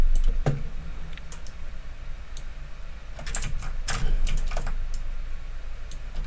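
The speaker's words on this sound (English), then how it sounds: "Now we're gonna add the keyboard sound effect. So the typing sound effect." Keyboard typing clicks along in irregular bursts of keystrokes, sparse at first then denser, close and fairly crisp over a low hum.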